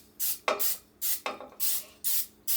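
Non-stick cooking spray hisses onto muffin top tins in five or six short, quick bursts, each a sharp spritz separated by brief pauses, close and fairly quiet.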